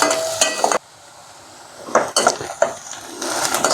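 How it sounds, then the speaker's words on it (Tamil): Onions frying in a pan with green chillies and curry leaves over a normal flame, loud bursts of stirring and utensil clatter against the pan separated by a quiet gap, with sizzling underneath. "ஸோ நார்மலான ஃப்ளேம் வச்சு இந்த வெங்காயத்தை நல்லா ஃப்ரை பண்ணுங்கள்"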